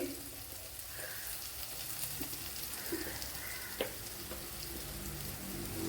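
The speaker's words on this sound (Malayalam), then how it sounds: "സവാളയൊക്കെ നല്ലതുപോലെ വഴണ്ട് വന്നിട്ടുണ്ട്" Onions sautéing in a pan for Kerala-style fish curry, giving a steady, close, hissing sizzle throughout with a few faint stirring clicks.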